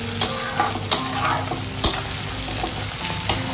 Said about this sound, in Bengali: এই যে সব একসাথে সেগুলোকে ভেজে নেবো